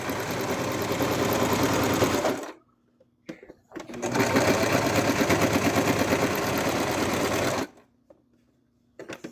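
A sewing machine stitches a plush seam close to the edge for a Cthulhu plush's wings, running loud and steady in two long bursts with a short pause between them and only faint sounds in the gaps.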